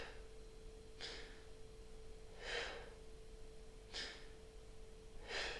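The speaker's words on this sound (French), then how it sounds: "c'est une inspiration courte." Short, sharp inhalations demonstrated as a recovery breathing exercise, four quick breaths spaced about a second and a half apart, close and fairly quiet over a faint steady hum.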